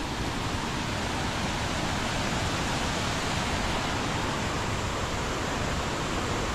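Devle waterfall in Devarukh pours as a dense, continuous roar of rushing water, loud and close, a steady broadband wash with no pauses and no voices.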